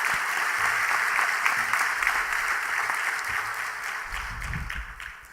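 Congregation applause at a church worship service marking a pastor's inauguration, a dense steady wash of many hands clapping throughout, easing slightly toward the end with a low rumble underneath.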